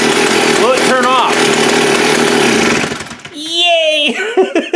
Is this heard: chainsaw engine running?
yes